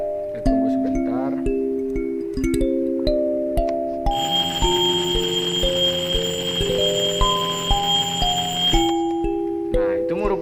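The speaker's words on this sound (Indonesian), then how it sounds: "Merupakan bunyi dari jam waker yang pertama." A first trial of a wind-up alarm clock ringing, captured as part of a sound-wave physics experiment, with a sustained bright metallic ring running for several seconds over background tones and clicks.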